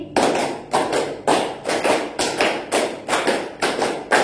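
A classroom group plays a counting clap game, with loud sharp group claps landing in short rhythmic clusters of three, four and five, separated by brief pauses.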